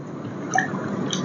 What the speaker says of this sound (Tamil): கொஞ்சம் தண்ணி சேர்த்துக்கிறோம்